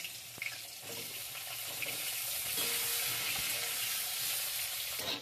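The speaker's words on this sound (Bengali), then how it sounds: "বেগুনগুলো আমি ভেজে নিচ্ছি।" Pieces of eggplant fry in hot oil with a steady, bright sizzle that holds evenly throughout, broken by a few faint clicks of stirring; no voices.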